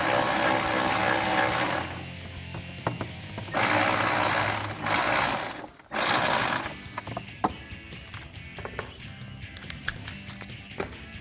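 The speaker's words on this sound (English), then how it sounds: "And the other one we're tightening down with our 10mm socket and 10mm wrench." Ratcheting clicks from a socket wrench tightening a 10mm nut on a Toyota Tacoma cold air intake, in bursts with pauses and a few sharp metallic taps; close and fairly loud.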